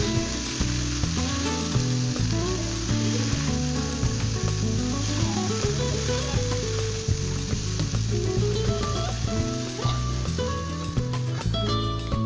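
Bottle gourd greens frying in a pan for a vegetarian dish, a dense, continuous sizzle close up with repeated scraping and clattering as a spatula stirs them, no talking.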